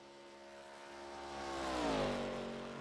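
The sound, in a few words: race car engines in an ARCA racing video game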